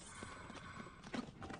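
Ghost horse hooves in Zelda: Tears of the Kingdom, a quiet run of soft clip-clop steps at a walking rhythm over faint game ambience, with a slightly louder cluster of hoofbeats near the end.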